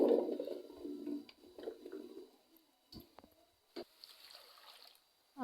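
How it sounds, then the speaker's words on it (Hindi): Chopped carrots are tipped into a kadai on a lit stove, giving a soft tumbling rattle and thud at first, then a few scattered light clicks and knocks in a quiet kitchen. "तो अब हम इसमें ये कटी हुई सारी गाजरें डालेंगे।"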